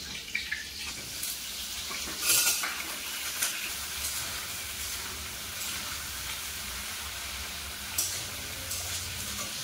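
Cut cauliflower florets dusted with a little turmeric frying in hot oil, a steady hiss with occasional louder crackles and stirring scrapes, close and fairly loud throughout with no voices.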